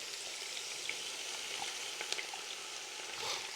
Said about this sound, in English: then we're going to fry some of the coriander.